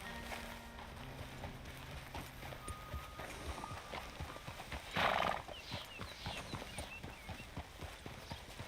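Horse hooves clip-clop at a steady walking rhythm in Red Dead Redemption 2, with a short loud whinny in the middle standing out over the game's ambient background.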